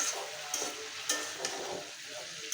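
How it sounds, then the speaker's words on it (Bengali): Bottle gourd greens tossed into a pan of fried potatoes, setting off a close, continuous sizzle and crackle with a few sharp spatters as the mixture is stirred. "আমি আলুগুলো ভালো করে ভেজে নিয়েছি। নিয়ে শাকগুলো দিয়ে দিলাম।"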